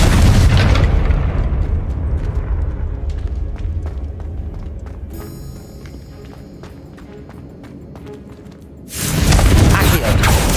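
A Confringo fire spell bursts with a loud booming explosion in Hogwarts Legacy, followed by a quieter stretch of scattered impacts and clicks before another loud blast near the end.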